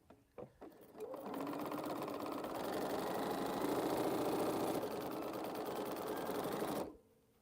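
A sewing machine runs in one steady, continuous burst of about six seconds while stitching quilt pieces, starting after a few clicks and stopping abruptly, with no talk over it.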